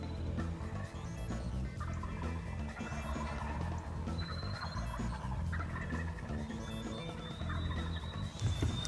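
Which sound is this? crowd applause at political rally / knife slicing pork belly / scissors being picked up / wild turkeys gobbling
wild turkeys gobbling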